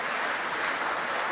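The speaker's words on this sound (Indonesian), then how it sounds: "Tepuk tangan." Applause from a congregation at a memorial Mass in a Catholic parish church, a steady dense wash of clapping filling the whole short stretch at moderate loudness with no voices over it.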